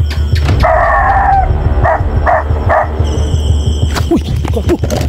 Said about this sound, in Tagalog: mga aso mga tol.